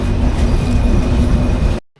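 The Shimanta Express rumbles loudly at Darshana station, a heavy continuous roar of wheels and carriages close by that cuts off abruptly near the end.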